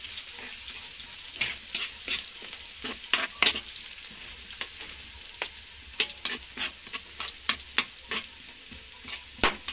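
Chicken for adobo being sautéed in a pan, with steady frying sizzle broken by frequent sharp scraping stir strokes throughout, close and fairly loud, no voices.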